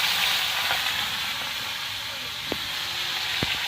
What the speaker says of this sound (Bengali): আলুগুলো আমরা ভেজে নেব।